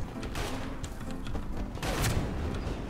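Gunfire in Max Payne 3, a few muffled bursts and thumps over a rough, noisy background, with a denser, louder cluster near the end.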